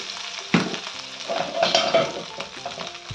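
Crushed ginger sizzling in oil on a low flame for a Kerala fish molly, stirred in the pan: a steady close hiss broken by short scraping strokes and a sharp clack.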